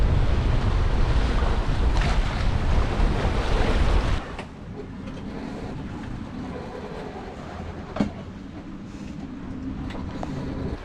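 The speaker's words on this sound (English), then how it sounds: "blustery wind." Gusty, blustery wind roars across the microphone aboard a sailboat running along the coast with the tide. It is loud and rough at first, then drops to a steadier rush of wind and water with a brief thump.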